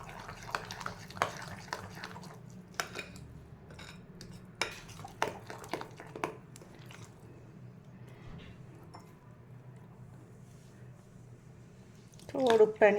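A spoon stirs semolina batter with added water in a bowl, giving soft wet squishes and sharp clinks against the bowl in an irregular rhythm, close and fairly quiet, with a louder clatter at the end.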